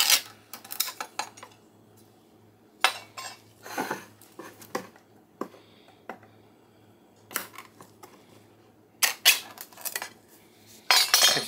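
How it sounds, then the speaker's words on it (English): Two cans of stem-and-piece mushrooms are drained and tipped into a pot. The result is a run of sharp metallic clinks and clatters from cans and utensils, separated by short quiet gaps, with no one speaking. "So we're going to drain those and add those 2 cans of mushrooms."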